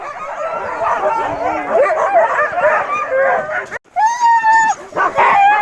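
Several excited dogs in kennels bark and yip nonstop, overlapping in a loud chorus, with a few higher whines and yelps breaking through near the end.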